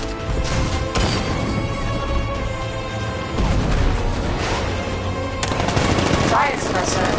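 Batmobile riot suppressor firing in Batman Arkham Knight, rapid loud bursts of automatic gunfire with crashing impacts, continuous over the game's background sound.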